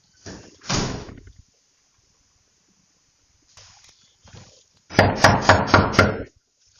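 Police bang hard on a door in a quick run of about five loud, close, heavy thuds, preceded by a few softer bumps and rustles.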